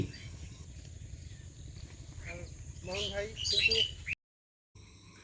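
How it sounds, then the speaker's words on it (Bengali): A flock of bank mynas calls near a lake, shrill chattering chirps rising over steady background noise and insect-like hiss, moderately distant, with a short dropout near the end. "আমরা অনেক দূর থেকে পাখির চিৎকার চেঁচামেচি শুনতে পাচ্ছিলাম"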